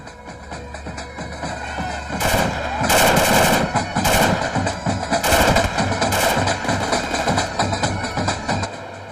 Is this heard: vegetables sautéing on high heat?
no